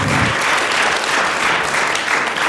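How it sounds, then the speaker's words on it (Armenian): An audience applauds two world champions with loud, dense, steady clapping that holds evenly throughout, without voices standing out. "եկեք ծափարենք մեր չեմպիոններին"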